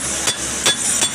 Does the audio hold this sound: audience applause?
no